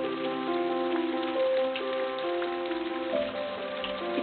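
Heavy rain falls in a steady, dense wash, with sustained musical tones running underneath the whole time.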